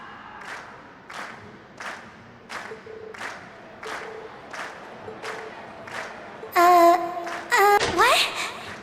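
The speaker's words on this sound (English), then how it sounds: "we've heard your cheers loud and clear" Crowd applause and cheering at the close of a concert performance by Class 7 in The Legend of Heroes: Trails of Cold Steel, heard as rhythmic clapping waves, ending with a brighter burst of musical sound.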